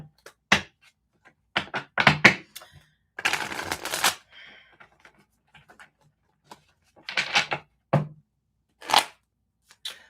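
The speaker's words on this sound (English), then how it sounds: "let me pull some cards before I talk." Tarot cards are pulled from a deck and handled in short scattered bursts of shuffling, snapping and tapping, close and fairly crisp, separated by near silence.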